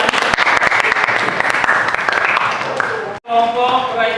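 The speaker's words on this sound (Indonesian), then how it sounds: "Berikan aplaus untuk" A classroom audience claps for a student group after their presentation, giving dense applause for about three seconds before it cuts off and a voice speaks.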